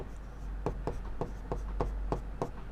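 Chalk or marker writing on a board during a class 10 maths lesson, sharp tapping strokes in a regular rhythm, about eight distinct taps over a quiet room hum.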